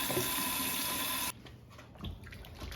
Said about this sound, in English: I'm going to give these figs a couple of washes